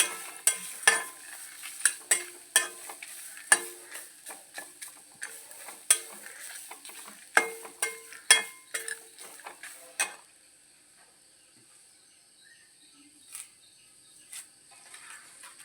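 A handful of coconut is stirred in a hot pan for sambar, giving sharp, irregular scraping clinks of a spoon against metal. A soft sizzle sits beneath them, and the clinks thin out to occasional taps near the end.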